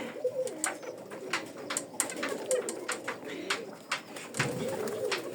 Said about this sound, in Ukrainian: Така йде зараз годівля голубів.